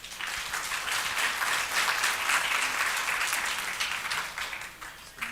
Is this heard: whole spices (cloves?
no